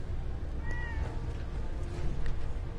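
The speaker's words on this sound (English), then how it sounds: "Aw, you have a kitty cat." A cat in Fallout 4 gives a couple of faint, brief meows over a steady low background rumble, quiet and half buried, with no speech.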